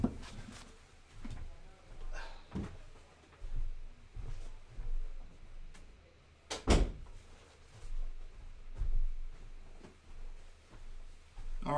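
Office door closing during a live stream, with a few soft thumps and rustles, then one sharp clunk of the door shutting, faint and somewhat distant in a quiet room.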